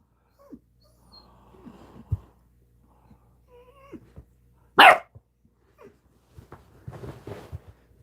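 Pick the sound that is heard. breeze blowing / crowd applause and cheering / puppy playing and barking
puppy playing and barking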